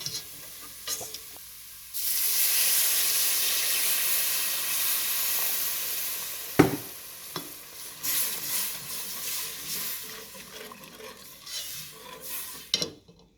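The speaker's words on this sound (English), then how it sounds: "I'm going to add my finely chopped onions in it because I want them to brown up a little bit as well" Finely chopped onions hit a hot pan for sauerbraten and sizzle steadily, with a spoon scraping and stirring through them in a few sharp knocks; close and moderately loud, no talking.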